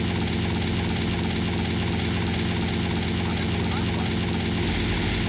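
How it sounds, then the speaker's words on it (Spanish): A helicopter in the video game GTA Vice City Stories gives a loud, steady rotor and engine drone that fills the whole stretch without a break. "Yo creo que tengo que llevarlo con el helicóptero."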